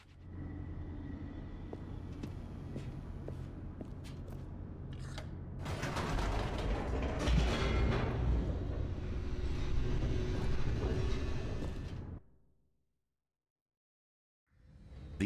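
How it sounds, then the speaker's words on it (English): In-game elevator in The Stanley Parable plummeting downward: a steady low mechanical rumble and rattle swells louder midway, then cuts abruptly to silence near the end. "The elevator raced downward, plummeting towards an unknown fate."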